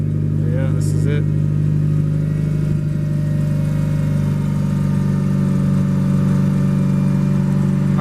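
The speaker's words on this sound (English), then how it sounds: "last drive on the stock engine" A stock-engine Mitsubishi Lancer Evo 9 drones loudly and steadily from inside the cabin while driving, a constant low engine hum with road noise and no clear revving.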